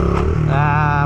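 A stunt motorcycle blipped at the throttle, a short close engine rev rising from a low idle into a brief buzzing surge, loud and alone.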